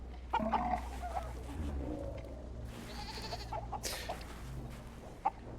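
Goat bleating in the video game Indiana Jones and the Great Circle, a few short nasal bleats and clucking-like animal calls over a low rumbling ambient bed, fairly quiet and moderately close.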